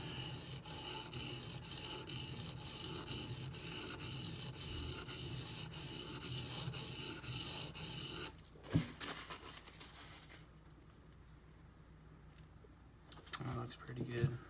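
A Benchmade Griptilian knife with a D2 steel blade is drawn along a sharpening stone to clean up small scratches, a steady loud rasping rub for about eight seconds, then stopping, with only faint scrapes and handling noises afterward.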